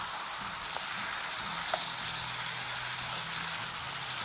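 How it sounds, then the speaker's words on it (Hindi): Eggplant and potato pieces for achari aloo baingan fry in a pan, a loud, steady sizzle close up with a couple of faint stirring clicks and no talk. "मैं जल्दी जल्दी से इनको मिक्स कर रही हूँ।"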